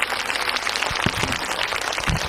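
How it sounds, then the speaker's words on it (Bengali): An audience gives loud, sustained applause, a dense, even crackle of many hands clapping at once throughout. "জোরে করতালি।"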